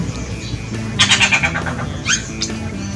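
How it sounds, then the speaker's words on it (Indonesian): A blue-throated bee-eater gives two bursts of rapid, shrill trilling calls over a low background hum, fairly close. "ini dia teman, suara cirik-cirik kumbang"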